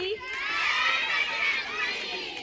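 Students from classes 6 to 10 cheer and clap at a Guru Vandana school program in Porbandar: a dense, steady wash of young voices shouting and applause that swells and holds loudly throughout.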